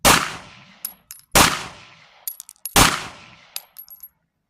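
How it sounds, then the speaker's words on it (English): Three sharp pistol gunshots crack outdoors during one-handed, weak-hand shooting practice, each followed by a quick decay and faint metallic clinks, with short pauses between shots. "just practicing shooting one-handed, weak hand"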